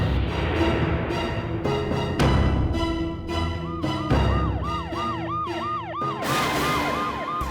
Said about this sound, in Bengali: অ্যাম্বুলেন্স এসে গেছে।